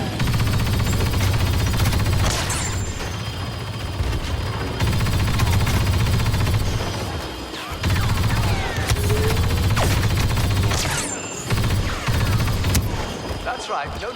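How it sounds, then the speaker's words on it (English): Sustained covering gunfire in the video game Battlefront 2, dense bursts of rapid shots and booms running continuously and loudly with brief drops near the middle, with game voices talking over it. "Laying down covering fire."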